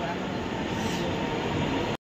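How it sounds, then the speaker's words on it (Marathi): Steady broadband rumble inside a moving passenger train bound for Kankavli in the Konkan, continuous and fairly loud throughout before cutting off abruptly. "आम्ही आता ट्रेनमध्ये बसून घेतलंय"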